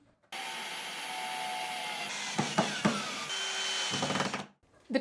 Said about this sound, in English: I screwed these small plastic pieces on the 4 corners and then screwed on the metal trim.